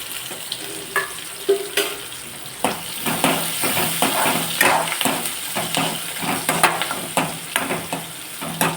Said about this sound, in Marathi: कांदा चांगला परतून घ्यायचा लाल गुंड होईपर्यंत